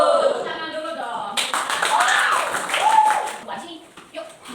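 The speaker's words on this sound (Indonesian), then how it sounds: "Tepuk tangan dulu dong" Classroom clapping from students rises suddenly after a teacher's question, a brief burst of hands beneath children's and adult voices talking before and after.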